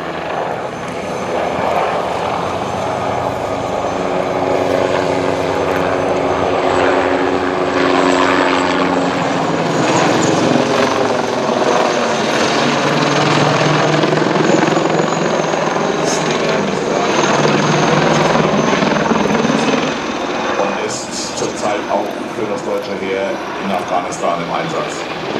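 Tiger attack helicopters flying a double display at the ILA 2014 air show, each powered by two MTR-390 gas turbine engines of 1500 horsepower, roaring loudly and steadily with rotor throb while an announcer talks over them.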